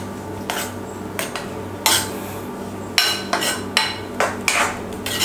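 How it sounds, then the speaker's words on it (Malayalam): Grated coconut heated and stirred in a pan for a Kerala banana pachadi, a run of sharp metallic clinks and scrapes of the spoon against the pan, irregular but roughly every half second, close by, over a low steady background. "നല്ലതുപോലെ ഇളക്കണം."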